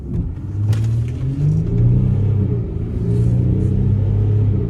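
A Volkswagen Touareg 3.0 diesel accelerates hard from a standing launch, its engine rumble climbing steadily in pitch, loud and close from inside the cabin.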